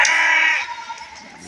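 Goats and sheep being fed ipil-ipil leaves give a loud, close bleat that trails off into a quieter, fading tail.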